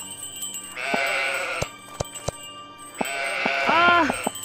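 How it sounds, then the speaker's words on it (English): Sheep bleat in the video game Old Man's Journey, with two drawn-out bleating bursts and a few sharp clicks between them, heard close and fairly loud. "You can go through the horde of sheeps."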